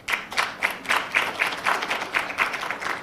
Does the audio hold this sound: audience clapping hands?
yes